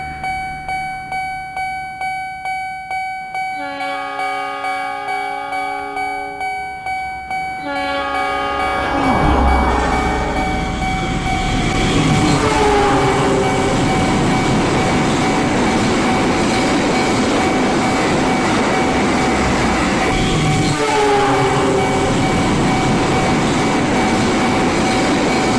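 Train passing a level crossing, opening with repeated crossing bell dings and long blasts of the train horn, then a loud, sustained rumble and clatter of rail cars rolling by close, with the horn sounding again later.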